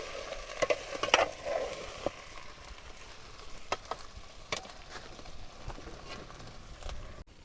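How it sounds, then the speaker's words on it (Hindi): A hill-style okra and tomato vegetable dish cooks in a pan, with scattered clicks and scrapes of stirring over a soft, steady sizzle and no talking. "महाराज जी की सब्जी प्रसादी पकने लगी।"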